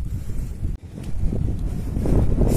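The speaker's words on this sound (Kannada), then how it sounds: "ಓ ಎಡ್ಡೆ ಗಾಳಿ ಸೂಪರ್ ಗಾಳಿ" Strong wind buffets the microphone on a roadside walk, making a low, rumbling roar with uneven gusts. It dips briefly early on, then builds louder toward the end. No one speaks.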